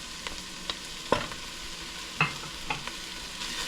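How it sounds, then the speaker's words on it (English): Onion and ginger sizzle in a pot as they are stirred, a soft continuous frying hiss broken by several sharp scrapes and clinks of the spoon against the pot. "And just mix that in and stir it."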